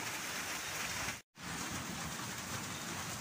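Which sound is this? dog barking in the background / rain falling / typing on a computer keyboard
rain falling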